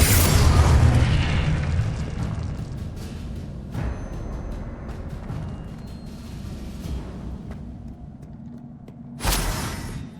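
A spell explosion in Hogwarts Legacy opens with a loud, deep boom that fades into a rumbling tail, followed by another sharp burst near the end.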